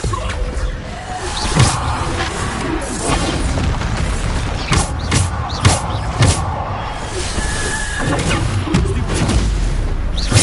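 The Descendo slam spell in Hogwarts Legacy on PS5 lands as a series of heavy thuds and crashing booms scattered over a busy, rumbling battle bed, with scraping, mechanical clatter between the hits.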